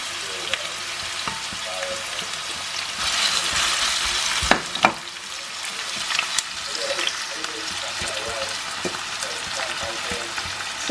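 Onion and ginger frying in hot oil for a home-cooked curry, a steady broadband sizzle with occasional stirring clatters and a couple of sharper knocks midway, fairly close and continuous throughout.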